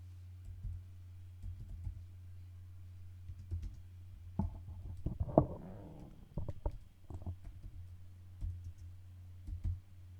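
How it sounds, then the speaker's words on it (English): Bursts of computer keyboard typing while coding, with irregular clusters of keystrokes over a low steady hum, fairly quiet and close. "You can hear the serious typing sound."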